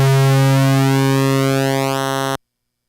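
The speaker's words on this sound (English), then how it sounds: "what you're hearing there is very thin squares" A modular synthesizer oscillator droning a very thin square pulse wave, buzzy and rich in overtones, holding steady while a sweep shifts its tone before it cuts off abruptly into silence.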